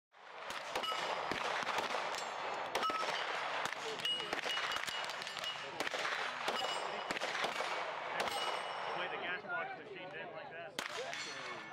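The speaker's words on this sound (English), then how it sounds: "We'll shoot a variety of different things, including different configurations of the Z9." A ZRODelta Z9 modular pistol fired on an outdoor range during a 2018 range day, delivering a dense stream of sharp, close cracks, many in rapid succession and some overlapping, with voices faintly underneath.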